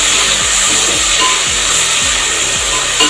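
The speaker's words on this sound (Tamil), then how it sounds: "வெங்காயம் நல்லா வதக்கணும்" Onions sautéing in a pan for a madavai fish curry hiss and sizzle loudly and steadily, with regular scraping strokes of a spoon sweeping through them roughly every half second.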